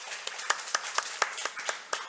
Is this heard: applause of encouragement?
yes